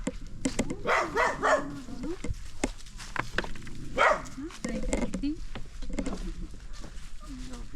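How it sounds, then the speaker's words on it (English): Dogs bark on a farm, several sharp barks in irregular bursts, some near and loud, amid insect buzz and outdoor background, with people talking at times. "I need the dogs because this place is full of monkeys."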